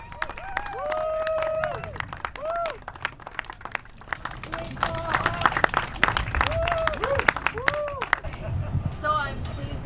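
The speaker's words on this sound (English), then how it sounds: "Please give a round of applause for signing the pledge." Outdoor crowd clapping outside Parliament in Canada at a Fairvote Canada pledge event, scattered applause mixed with crowd babble and voices talking over it.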